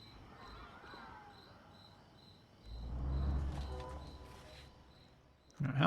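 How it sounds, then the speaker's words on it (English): Crickets chirp in a quiet nighttime town in the city-building game Cities Skylines, a soft, steady pulsing trill over faint ambient hum, with a few louder low rumbles and a short thump near the end. "just hearing the crickets in the town"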